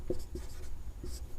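Writing on a classroom board during a maths lesson: several short scratchy strokes and taps in an uneven rhythm, close and fairly quiet, with no speech.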